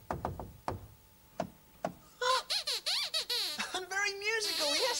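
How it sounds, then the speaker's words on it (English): Sharp knocks sound on a door, several spaced raps close by, followed by high squeaky puppet-like voices chattering in quick bursts. "They're knocking back."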